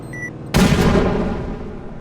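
A Roblox game explosion bursts suddenly after a couple of soft beeps, a loud booming blast that rumbles and slowly fades.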